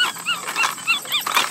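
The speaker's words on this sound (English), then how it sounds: "Choking the dog." A police dog in training whimpers and whines in repeated high, rising cries while being choked on a leash, close and continuous over background noise.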